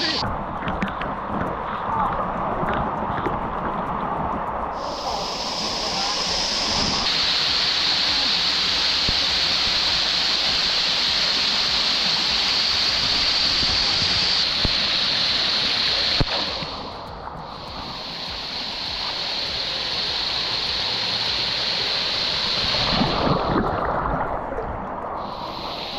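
Loud, steady rush of water pouring down a secret waterfall, a dense roar close by that swells and dips briefly around the middle and again near the end, with occasional voices faint beneath it.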